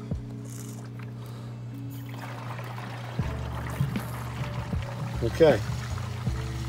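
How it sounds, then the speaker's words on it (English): An aquarium gravel vacuum with its drain tube opened starts siphoning, giving a low steady hum with rising trickling and gurgling water; a person briefly speaks over it. "that's going to start the siphoning process."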